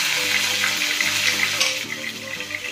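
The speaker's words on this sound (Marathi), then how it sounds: "एक खडा मसाला आहे, थोडासा कढीपत्ता आहे, ते टाकून घ्यायचा आहे" Whole spices, cumin and curry leaves spit and crackle in hot oil in a pan, a dense close sizzle with faint stirring.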